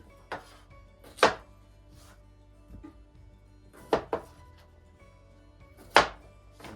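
A knife chops through partly frozen elk steak on a board, five or six sharp, separate cuts spaced unevenly, close and crisp against a quiet room; one brief spoken word.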